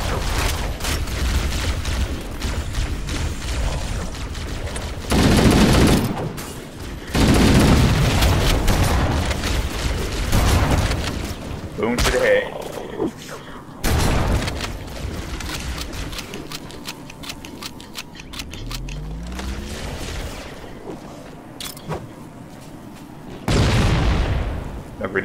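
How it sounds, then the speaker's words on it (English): Heavy grenade blasts in the Halo CE Anniversary shooter game, several loud booming bursts spread across a busy stretch of gunfire and game noise. "Everybody just grenade on."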